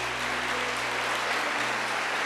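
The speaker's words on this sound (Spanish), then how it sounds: "Denle un aplauso a José Gregorio Hernández." A crowd gives a sustained round of applause during a talk, a close, dense and even wash of clapping with no voices over it.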